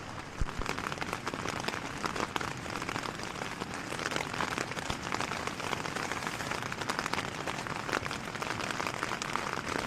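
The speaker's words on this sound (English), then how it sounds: "Massive thunderstorm, rain, lightning, thunder, full works." Steady, dense patter of heavy thunderstorm rain drumming on a tent close by, continuous and even throughout with no voices.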